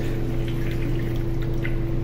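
Water pours steadily from a dispenser, a continuous close stream with a low, even hum underneath and no talking.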